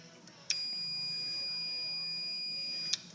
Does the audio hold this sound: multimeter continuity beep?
yes